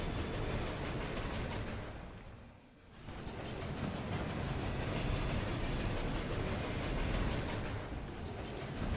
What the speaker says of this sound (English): How many trains do they need?